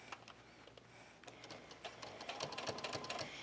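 A sewing machine runs a short, fast stitch along a strap to secure buckle hardware for cosplay armor, a close, steady mechanical whir that builds slightly in loudness, with no speech.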